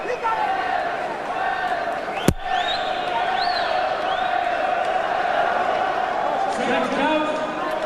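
Boxing crowd at the Calzaghe vs Eubank fight, a steady roaring arena murmur with whistles and shouts rising out of it and one sharp slap, while a commentator talks over it.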